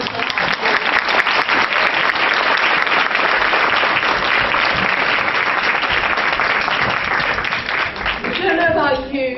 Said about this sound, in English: Can I get another round of applause?